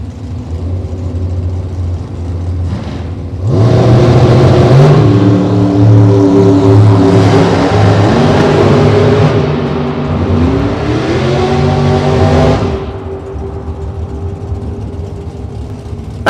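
Drag racing at LODRS Las Vegas, a Race Tech chassis car in the left lane and Adam Hicks' California-based hot rod in the right, roar down the strip with loud sustained engine howl rising in pitch, then fading back to an idle rumble.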